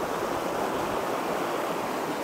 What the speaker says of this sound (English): It's flowing pretty fast, and it's just an awesome mountain creek.